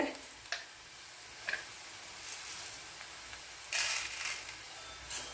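Whole spices for a Kadaknath chicken curry sizzle faintly in a pan, with a few soft clinks and scrapes of stirring breaking through the quiet, low hiss.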